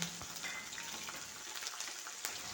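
Garlic cloves frying in hot oil for a Kerala bread snack, a steady soft crackle with scattered sharper pops, close and continuous with no talk.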